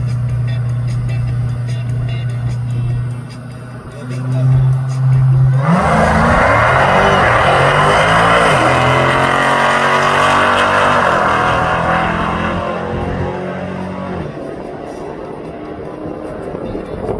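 A Dodge Hellcat at a drag strip idling, then launching hard with a loud roaring rev that climbs through gear changes and fades as the car pulls away down the track.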